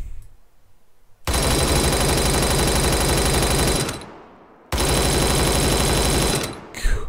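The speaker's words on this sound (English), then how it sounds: "it's a medium machine gun" Medium machine gun in Arma 3 firing two long sustained automatic bursts, loud and dense, with a brief pause between them and a short tail at the end.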